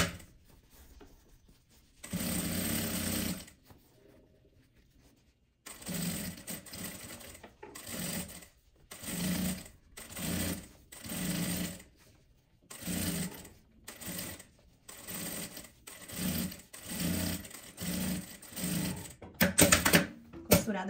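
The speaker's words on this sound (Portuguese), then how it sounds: "Vou rebater essa costura passando o pesponto, dando a volta nessa parte." A sewing machine topstitches a seam on a fabric phone holder in a string of short, rhythmic stitching bursts separated by brief pauses, steady and fairly quiet.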